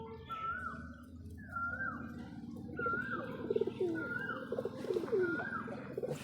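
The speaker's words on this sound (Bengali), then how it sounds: "কি সুন্দর পায়রা" Domestic pigeons, white and red birds, coo in a repeated rolling pattern, about five or six calls in a row at close range, over a soft murmuring background of other birds.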